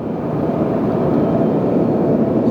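Jet airliner engines at LAX roar as a steady, broad, loud rumble that holds unbroken throughout, with no voices over it.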